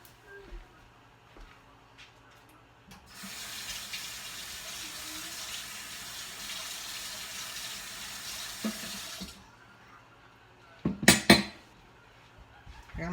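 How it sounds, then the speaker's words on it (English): Kitchen sink tap water runs steadily for about six seconds while sweet potato strings are rinsed, followed by a brief clatter of dishes, all fairly quiet and close. "I'm going to take the strings over to the sink and rinse them down."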